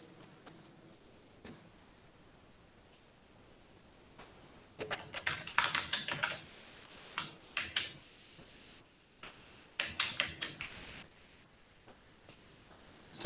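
Someone types on a computer keyboard in a quiet room, with scattered single keystrokes and short rapid clusters of clicks separated by pauses.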